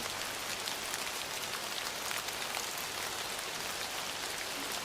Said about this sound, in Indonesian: Untunglah hujannya hanya merintik dan menyebar hawa yang sangat dingin.